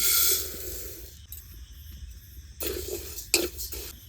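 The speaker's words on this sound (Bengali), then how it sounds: "এবার মুগের ডালটা একটু হালকা ভেজে নেব" Moong dal is lightly fried and stirred in a hot kadai, with close scraping and stirring bursts and a soft sizzle that come and go, broken by short quieter pauses.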